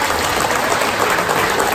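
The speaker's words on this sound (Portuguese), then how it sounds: "Um aplauso para vocês também." A crowd at a community association's anniversary celebration breaks into brief, dense applause, loud and close, with no speech over it.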